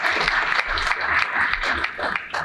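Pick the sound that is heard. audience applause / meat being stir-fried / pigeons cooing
audience applause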